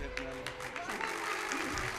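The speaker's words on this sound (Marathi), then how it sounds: "तेव्हा जोरदार टाळ्या झाल्या पाहिजे त्यांच्यासाठी।" An audience claps at a school annual gathering in Jalgaon Jamod, a loose, sustained wash of applause with a voice speaking over it.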